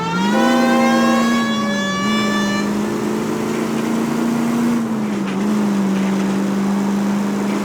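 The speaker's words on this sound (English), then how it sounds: "at least use a siren" A loud electronic police car siren in the video game L.A. Noire wails steadily, its pitch dipping and rising slightly, with a rumbling engine underneath throughout.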